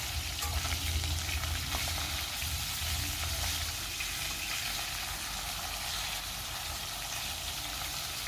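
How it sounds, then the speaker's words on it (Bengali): Pieces of rui fish fry in oil in a pan, giving a steady, close crackling sizzle that runs unbroken throughout, with a faint low hum underneath early on. "এভাবে আমি উল্টে পাল্টে মাছগুলোকে খুব ভালো করে ভেজে নেব।"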